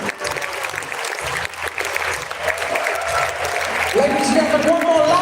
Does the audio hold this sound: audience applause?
yes